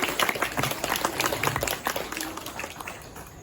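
An audience at an Adivasi Day gathering in Nagpur bursts into lively applause, loud at first, then thinning and fading over a few seconds. No talking is heard.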